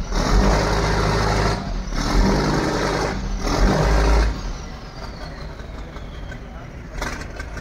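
A large fishing boat returning to Beypore harbour in Kozhikode rumbles with a heavy, nearby engine that drones loudly for about four seconds and then drops to a softer idle, with a voice talking over it.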